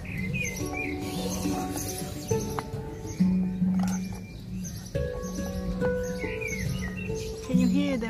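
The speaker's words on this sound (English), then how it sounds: "Can you hear them birds?" Small birds chirp and call around an outdoor table at an English village pub, with bright repeated tweets over a steady murmur of nearby activity and a few louder clatters.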